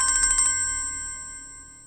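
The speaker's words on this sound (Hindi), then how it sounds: "राबी का फोन है नहीं?" A mobile phone ringtone for an incoming call in a drama scene: a quick run of bright electronic beeps in the first half second, then a sustained tone that fades out over about a second and a half, with no talk.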